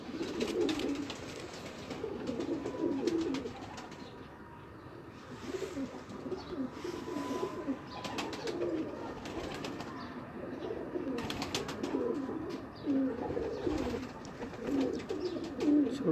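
Breeder homing pigeons coo in repeated low, throaty phrases, several birds overlapping close by with soft rustling in the background.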